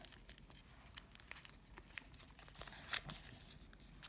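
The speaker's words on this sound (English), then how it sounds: "Then fold it back down again" Paper being creased, unfolded and folded back down while shaping an origami figure of a man blowing bubble gum, giving soft continuous crinkling and rustling with small taps and a sharper crackle near the end, close and quiet.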